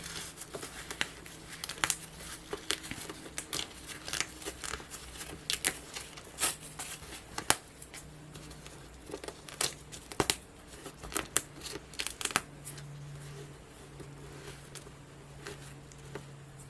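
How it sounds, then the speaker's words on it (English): Quiet, scattered crisp tearing and crinkling of tearaway embroidery stabilizer, with sharp irregular rips and faint rustling between them, close by and no voices. "let's go ahead and pull up more of the tearaway stabilizer"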